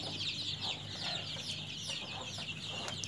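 Many young native chicks on an Indian country-chicken farm peep continuously in a dense, high-pitched chorus, steady and moderately close, with a faint low hum underneath.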